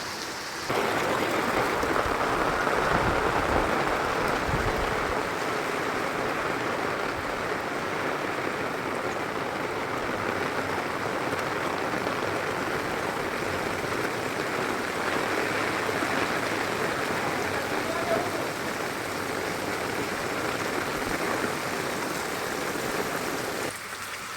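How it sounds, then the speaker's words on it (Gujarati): Floodwater gushing through market streets after a whole night of heavy rain: a loud, steady, continuous rushing and roaring that does not let up, with no talking. "બજારોની અંદરથી ખળખળાટ પાણી વહી રહ્યા છે"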